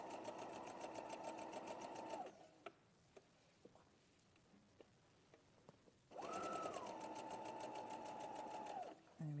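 A sewing machine stitches a skirt side seam in two steady runs separated by a quiet pause with faint clicks, the motor's hum even and close.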